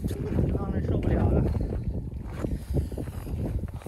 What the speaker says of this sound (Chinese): 它还刮风